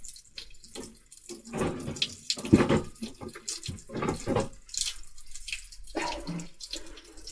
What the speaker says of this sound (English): Now I'm going to have to put up with that horrible water running noise